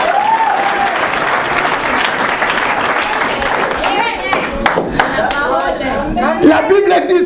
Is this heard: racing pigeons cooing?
no